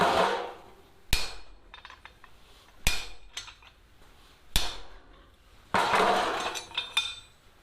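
A hammer strikes hot forged steel at the anvil while dents are set into a tenon for fireplace tongs: four sharp ringing blows spaced about two seconds apart, then a burst of quicker scraping clinks, close and clear.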